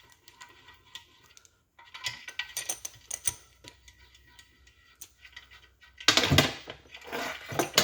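A 1/2 inch speed handle tightens a main cap bolt on a small-block engine, giving a series of close metallic clicks and ratcheting ticks in irregular bursts, with a louder clattering stretch near the end.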